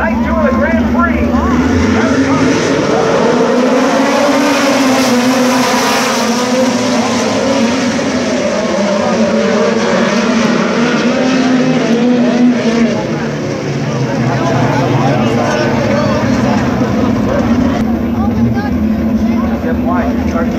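USAC midget race cars roar around Kokomo Speedway on a Grand Prix night, a loud, continuous dense engine drone with shifting pitch as the pack circles, under an announcer's voice over the public address.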